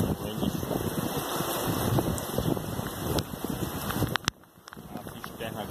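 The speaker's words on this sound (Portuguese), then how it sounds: "a chuva de vento, ó." Wind-driven rain lashes a farm in a steady, loud roar of gusts and pouring water, with a person talking over it before the noise briefly drops near the end.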